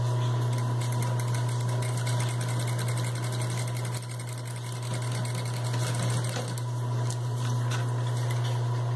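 A sewing machine stitches fabric for a drawer organizer in a continuous loud, steady whir, running alone without pause or talk.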